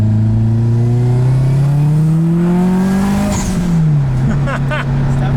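A turbocharged Nissan Pulsar GTI-R engine revs up loudly and steadily climbs in pitch, then drops off as a burst of sharp, rapid snaps from the blow-off valve follows.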